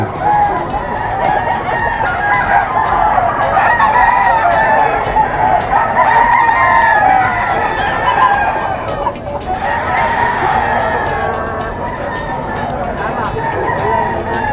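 Red comb sweater gamefowl roosters at a crowded Bocaue market, crowing in long overlapping calls one after another, near and loud over a steady hubbub of voices and clucking.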